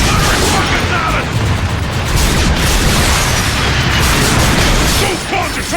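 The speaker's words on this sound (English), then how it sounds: "Firing rockets at us." Rocket fire and explosions in the video game Transformers: Fall of Cybertron, a dense, loud wall of booming blasts and battle noise that continues without a break.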